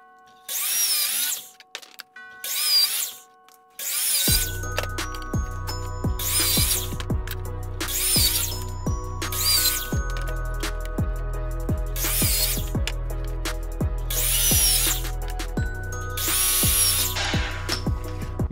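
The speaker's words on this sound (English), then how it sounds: "I feel comfortable doing it with the miter saw" Miter saw cutting small wood pieces for a 3D Christmas tree: after sharp bursts of motor whine, the saw spins up into a steady hum while repeated short, loud cutting strokes sound at regular intervals, close by.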